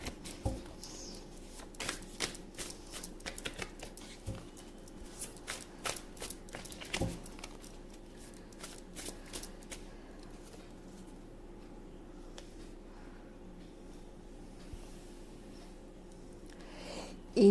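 Tarot cards are shuffled by hand in quick, soft riffling bursts, close and fairly quiet, with a steady faint background hum and no talk.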